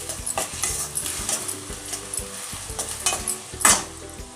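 Onions, green chillies and cashews frying in a pan with a bright, crackling sizzle, while a spoon stirs and scrapes against the metal in repeated, uneven strokes.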